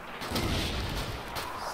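A German grenade exploding in the World War II video game Call of Duty 2, a loud, dull blast followed by a sustained rumbling roar and a second sharp report, with no speech.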